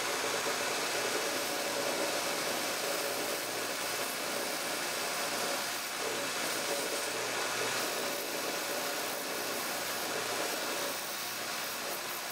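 A motorized wheel runs steadily while heavy backing material is rolled over it to shape the edge, giving a continuous loud whirring hum that holds even for the whole stretch.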